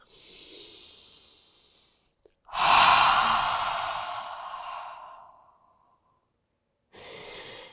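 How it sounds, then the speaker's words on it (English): A slow cleansing breath during a morning yoga stretch: a soft inhale, a pause, then a long, audible whooshing exhale through the mouth that fades away, followed by another breath, close and quiet. "So you'll inhale through your nose and exhale out your mouth."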